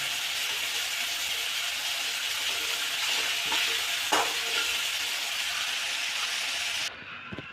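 Semolina (rava) roasting in a pan, a steady dry sizzle with scraping stir strokes running continuously close up, cutting off abruptly near the end.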